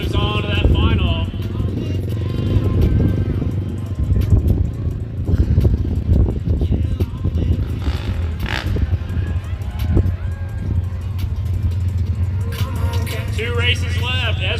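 Side-by-side engines at a hill climb race roar steadily in the distance with rough, fluctuating revving, under an announcer's voice over a loudspeaker.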